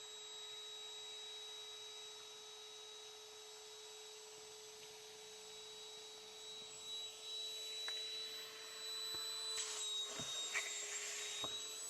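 An electric air pump inflates an air mattress for a Tesla Model Y, giving a steady, fairly quiet motorized hum throughout that grows a bit louder and rougher toward the end, with a few faint clicks.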